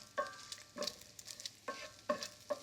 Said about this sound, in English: Just give that bacon one more